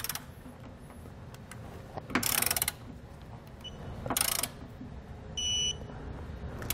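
A ratcheting socket wrench with a 19mm socket tightens trailer hitch receiver bolts under a 2017 Toyota Highlander, two short bursts of rapid clicking close by over a steady background hum, followed by a brief electronic beep.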